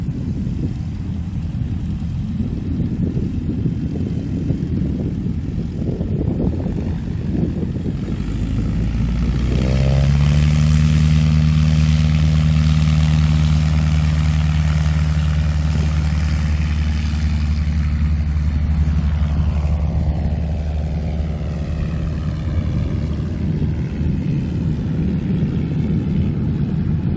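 A Mooney light propeller airplane takes off from the far end of a runway, its engine droning steadily, swelling louder near the middle and then holding a sustained rumble with a strong low tone.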